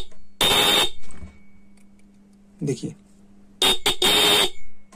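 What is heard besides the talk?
bike horn sounding, powered by a 12 volt transformer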